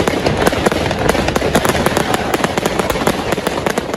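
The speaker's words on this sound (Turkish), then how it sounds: "Göstericiler polislere havai fişeklerle saldırdı." Fireworks launched by protesters at police during street protests in France, a rapid barrage of sharp cracks and bangs going off densely and loudly, one after another, without a break.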